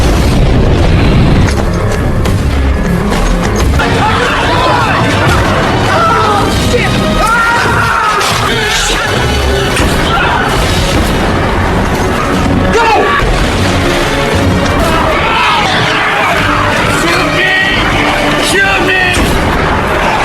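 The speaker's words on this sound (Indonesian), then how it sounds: "melemparkan gas LPG yang segera ditembak hingga meledak untuk membuyarkan gerombolan" An LPG gas cylinder is shot and explodes in a loud blast amid dense, chaotic noise from a zombie film, with booming impacts, gunfire-like cracks and shouting voices throughout.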